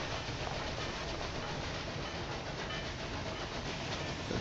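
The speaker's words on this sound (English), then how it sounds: "Our passenger train will follow the coast." A passenger train running along a coastal line in Railway Empire 2, a continuous dense rumble and hiss of rolling wheels that holds steady and moderately loud throughout, with no voices.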